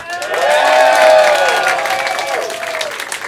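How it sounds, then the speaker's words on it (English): A comedy festival audience claps and cheers loudly, the applause swelling quickly and then tapering slightly while whoops carry over it. "can we get a massive fucking round of applause for JJ, please?"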